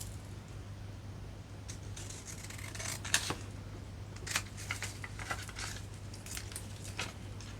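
Scissors snipping through a paper journal card at a craft table, a series of faint, crisp cuts at irregular intervals over a steady low hum, with no talking.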